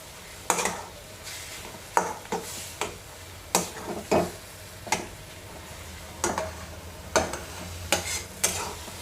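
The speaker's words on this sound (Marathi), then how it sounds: "हे बघा, असं हलवत राहायचं" Spatula scraping and tapping in a pan as a gram flour zhunka mixture cooks, repeated sharp stirring knocks at irregular intervals over a soft background sizzle, fairly quiet and with no voices.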